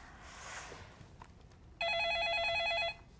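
A telephone rings with a bright, steady electronic tone lasting about a second, clear and fairly close, after quiet room noise with a faint rustle; no one speaks.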